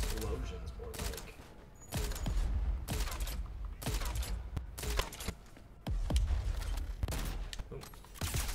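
Rapid gunfire and booming explosions from the Crackdown 3 video game, a dense run of repeated sharp bursts and blasts, loud and close throughout, with brief lulls between volleys.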